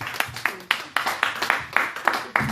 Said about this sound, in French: Nous acclamons pour le Seigneur.